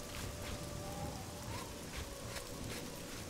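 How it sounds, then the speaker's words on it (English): Steady rain in the video game Oblivion hisses and patters continuously, dense and close, with no voices. "Maybe it's because it's always raining."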